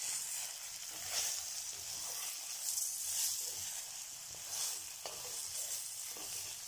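Mustard seeds sputtering in a hot-oil tempering for potato semolina idli, a soft continuous sizzle with faint crackles and occasional brighter pops, fairly quiet and close.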